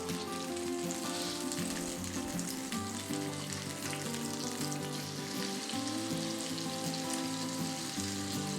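Food sizzles steadily in a hot frying pan, a close continuous crackle and hiss with faint background hum.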